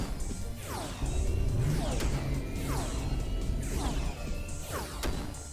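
Homing missiles fire repeatedly in a space shooter game, a run of descending whooshing streaks with sharp impact cracks, loud and continuous, several launches overlapping in quick rhythm.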